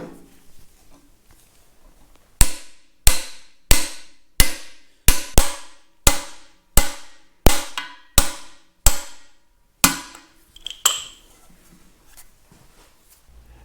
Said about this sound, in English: we just drive this one in until it flushes out with the top of the opening